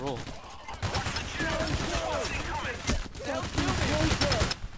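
Chaotic gunfire in PAYDAY: The Heist crackles in quick shots and bursts under overlapping, excited voices talking throughout.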